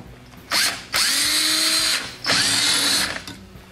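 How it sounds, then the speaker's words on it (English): A power drill with a long bit bores into a 1958 Wheelie Horse RJ58 tractor during restoration, loud whining bursts starting and stopping twice, close up with no talk. "I got a long drill bit. Let's see what we got in here."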